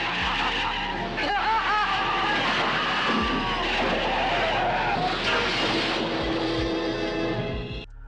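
A car swerving in thick fog and crashing into a ditch, with a continuous loud rush of engine and road noise, squealing tire skids early on, and a sudden drop at the end.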